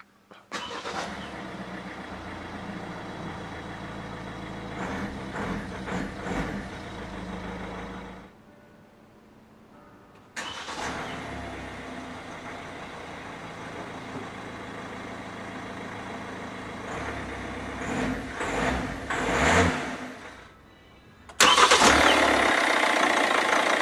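A 2014 Kia Optima starts up repeatedly, each time with a short crank and a loud catch that settles into a steady idle close by, broken by brief shutoffs and one rev that swells before a final restart.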